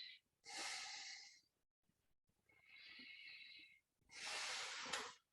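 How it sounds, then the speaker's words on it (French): Slow, deep breaths during a guided meditation: three long, soft airy inhales and exhales separated by short pauses, close and quiet with no talking. "Quelques respirations profondes."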